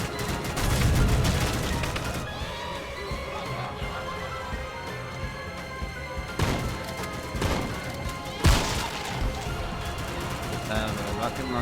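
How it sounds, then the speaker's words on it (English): Shotgun blasts in a video game, loud booming shots with crashing impacts heard in a dense, continuous game soundscape, a few sharp hits standing out near the middle and end. "Shotgun."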